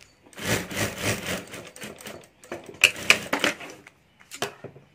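A sewing machine stitches a ladies' wallet in several close, rattling runs separated by short pauses, the needle chattering quickly through each pass, with no voices.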